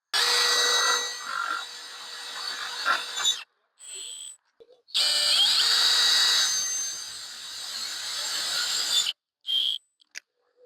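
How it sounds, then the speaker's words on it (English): A power drill drives self-drilling screws into an aluminium gate post, whirring loudly and close in two long runs broken by short pauses and a few brief bursts. "If you have a drill that's not quite powerful enough to drive the self-drilling screws in, you can use a pilot hole."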